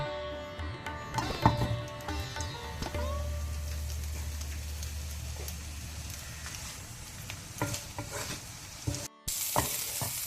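Dry shark fries in hot oil for a Mangalorean chana and dry shark monsoon dish, a soft steady sizzle with stirring scrapes and clinks, fairly quiet and close, with a brief voice near the start.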